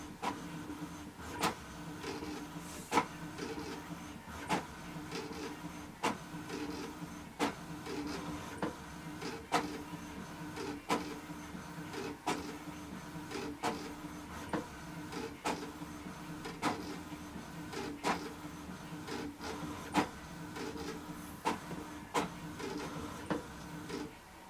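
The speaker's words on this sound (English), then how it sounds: "So we can see here it has printed this page." An HP Deskjet 1112 inkjet printer runs through a page, a soft, steady mechanical whir punctuated by regular clicks and carriage thumps roughly every one and a half seconds, quiet and close.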